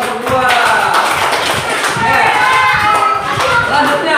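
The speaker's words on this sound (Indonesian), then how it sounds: "tepuk tangan buat kelompok 2" A classroom group applauds for group 2: dense, steady clapping from many hands runs loud and close for several seconds, with voices mixed in underneath.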